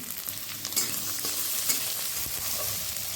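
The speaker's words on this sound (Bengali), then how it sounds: "গাজর টমেটো আর ক্যাপসিকামটা আমি এক মিনিট ভেজে নিয়েছি" Chopped carrot, tomato and capsicum fry in oil in a pan, giving a soft, continuous close sizzle with occasional scrapes and clicks from stirring.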